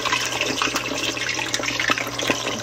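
Chicken wings dropped into hot oil with some water in it sizzle and crackle steadily, a dense, close hiss with scattered sharp pops throughout.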